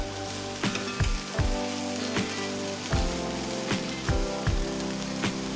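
Spice powder and potatoes frying in a pan for vegetable biryani, a steady sizzle broken by repeated soft scraping and stirring knocks every half second or so, close up and with no talking.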